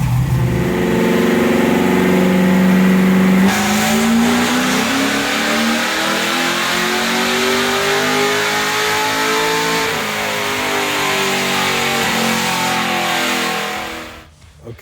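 Camaro LS V8 with a Truck Norris cam and Neighbor Hater mufflers, strapped to a dyno and pulled hard: a loud, close, sustained roar whose pitch climbs steadily through the gears before cutting off near the end.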